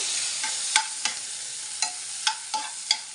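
Medicinal greens brought from the village roasting lightly in a pan for chutney, a soft steady sizzle punctuated by several sharp spatula taps and scrapes, no talking.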